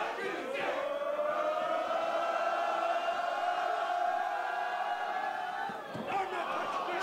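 A large wrestling-event crowd sustains a long, loud, droning boo, steady and swelling slightly before tapering near the end, with scattered shouts cutting through.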